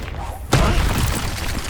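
In the video game Hogwarts Legacy, a Confringo fire spell explodes with a sudden loud boom about half a second in, followed by a crackling, rumbling tail, with a voice present alongside.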